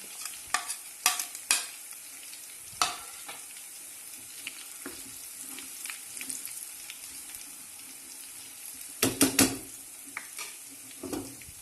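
Cumin seeds sizzle in hot oil for a dhaba-style moong dal tadka, a quiet steady crackle broken by sharp clinks and scrapes of stirring in the pan.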